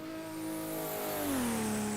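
A Group 5 race car engine from the GTG5 mod for Automobilista howls at high revs, a steady loud drone whose pitch holds, dips briefly, then rises again as it pulls, with no voices over it.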